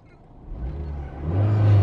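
A car engine that won't start and is flooding, cranking and struggling with a low rough churn that swells and grows louder toward the end, close by.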